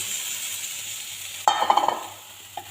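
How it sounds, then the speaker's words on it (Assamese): Onions and tomatoes hitting hot ghee in a pan, with a sudden burst of sizzling and a few stirring scrapes that settle into a quieter low sizzle, close and alone without voices. "পিঁয়াজ টমাটাৰ এইবিলাক গোটেইখিনি মই আপোনাৰ ইয়াতে ঘি দি পেলাই ফ্ৰাই কৰি ল'ম"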